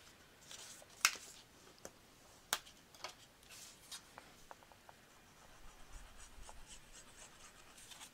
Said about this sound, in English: Fold on your score lines and burnish.